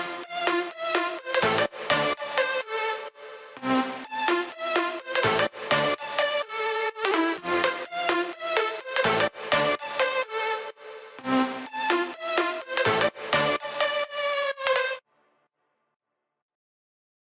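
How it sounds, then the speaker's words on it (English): Bright synth brass stabs in a future house drop hit in rhythm beneath a sustained lead melody, loud and continuous before cutting off abruptly near the end. "I decided to use the brass hits to give the drop that deep house vibe."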